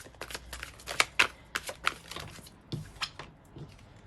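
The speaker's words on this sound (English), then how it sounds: "We're going to get a couple more cards." Tarot cards are shuffled and drawn during a love reading, close crisp riffling and flicking bursts with brief pauses between them, no talking heard.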